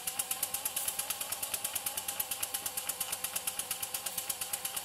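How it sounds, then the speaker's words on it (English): Small model steam engine driving a painted DC generator dynamo near maximum load, giving a fast, steady mechanical chatter of rapid rhythmic beats with a whirring hum, loud and close, with no talk. "Generator whirling away though,"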